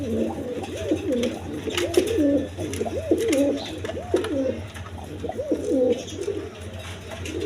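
Mosholdom pigeons coo repeatedly up close, with rolling, throaty calls that overlap in a steady rhythm over a low background hum.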